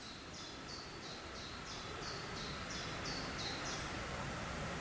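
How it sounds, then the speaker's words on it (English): A repeated high chirping call, about ten short notes in a steady rhythm, over a constant wind-like outdoor hiss. "As you can see, you can hear the birds,"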